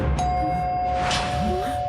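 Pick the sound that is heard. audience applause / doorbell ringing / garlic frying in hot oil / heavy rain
doorbell ringing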